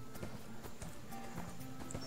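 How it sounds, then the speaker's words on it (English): Rapid clip-clop of horse hooves in the video game ArcheAge as the horse jumps, an uneven galloping rhythm, fairly quiet with faint background sound. "At least the horses can jump in this game."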